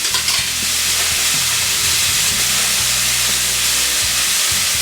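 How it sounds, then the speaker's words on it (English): A sirloin steak sears in a pan with melting butter and herbs, giving a loud, continuous close-up sizzle and hiss with soft low bubbling underneath. "what you wanna do right now is to let the butter melt in the pan with our herbs"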